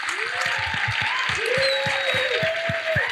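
An audience at a film screening of Sinners applauds, a steady clapping wash with whoops and cheers rising over it.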